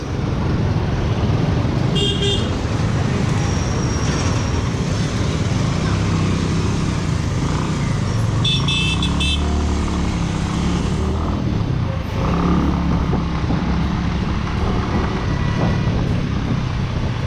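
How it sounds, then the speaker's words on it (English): A new Bajaj Avenger 150 Street cruiser motorcycle being ridden on the road: loud steady engine drone mixed with heavy wind rush, with a few brief horn toots from passing traffic. "Here we are with an Avenger 150 Street, the new model. So let's go for a small ride."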